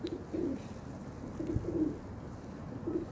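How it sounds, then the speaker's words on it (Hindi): Pigeons cooing on a rooftop, soft repeated low coos in a loose rhythm, fairly near but quiet, over a faint steady background hiss. "ये बेबी पिजन जो सब गिफ्ट आए हुए हैं, सब पर खोल दिए हुए हैं, अभी छत पे घूम फिर रहे हैं।"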